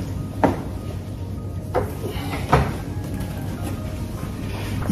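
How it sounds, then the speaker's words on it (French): A door swinging shut in a building hallway, heard as a few distinct thuds and clunks over a steady low hum, with no one talking. "Je vais essayer de fermer la porte."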